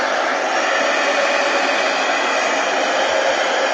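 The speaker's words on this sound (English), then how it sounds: "Is this dry? Heat gun." A heat gun blows a loud, steady, close rushing hiss without pause as it dries paint on cardstock.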